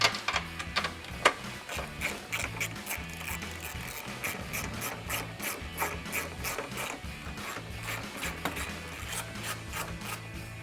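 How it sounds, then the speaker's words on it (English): A ratchet spins off the front strut nuts on a 2015-2023 Mustang GT, giving a steady run of quick, close metallic clicks in short repeated bursts for about ten seconds. "we're going to remove these nuts."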